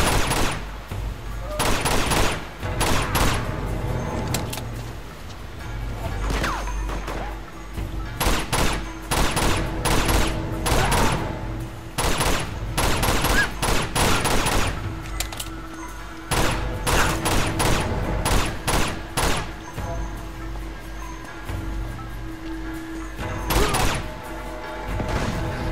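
Bursts of machine gun fire in Uncharted 2: Among Thieves, repeated loud rapid volleys separated by short pauses over a long stretch, with faint talk between.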